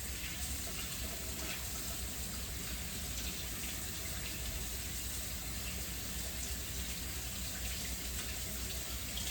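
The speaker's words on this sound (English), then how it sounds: "All right, so I'm gonna wash my hands again." A kitchen tap runs steadily as hands are washed under it, a constant soft hiss of water throughout, with no talking.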